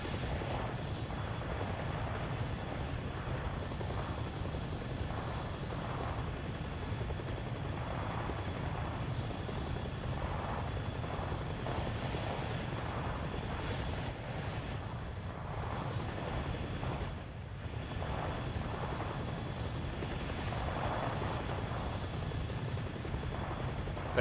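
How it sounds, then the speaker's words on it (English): A helicopter hovers in the video game Arma Reforger, making a continuous low rotor rumble and windy whoosh that stays steady and fairly distant throughout, with faint muffled sounds above it and no clear talking. "That helo's just stuck there then."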